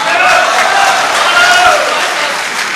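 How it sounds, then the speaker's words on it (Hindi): A crowd applauding steadily at a public meeting with a deputy chief minister, a dense continuous wash of clapping with some voices mixed in. "ताली मत बजाइए"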